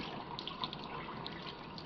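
Running water from a tap pours steadily over a tape transfer being rubbed under the stream, a constant close splashing hiss with faint drips, no voices.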